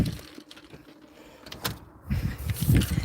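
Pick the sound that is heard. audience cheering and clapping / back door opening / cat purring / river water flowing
back door opening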